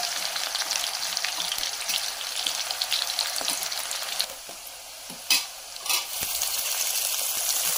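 Onion and chillies frying in a pan with garlic, producing a dense, close sizzle that drops briefly before a couple of sharp clinks and scrapes, then the crackle resumes, with no speech.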